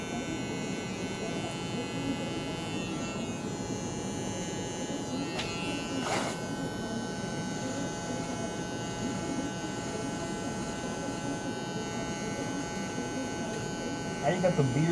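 Electric hair clippers buzz steadily and close during a haircut, a constant electric hum running throughout while people chat nearby.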